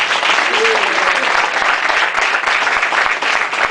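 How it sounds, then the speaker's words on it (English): Audience applause fills a room at an evening speaker event, a dense, steady wash of many hands clapping at close range for the full length, with a brief voice rising faintly underneath near the start. "So you all deserve a round of applause for that."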